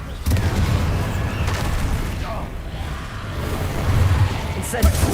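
Explosive Bombarda and Confringo spells in the video game Hogwarts Legacy, a dense rumbling barrage of booms and blasts sustained for several seconds, loud and close, with voices shouting over the clamour.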